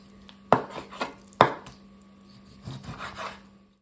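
A knife chops about 200 grams of pork on a board for borscht, giving a few sharp, close thuds spaced irregularly, then a softer run of quicker cuts, over a faint electrical hum.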